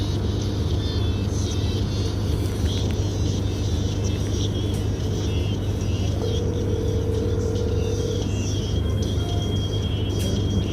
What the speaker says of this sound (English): I'm on the last bus to Manudi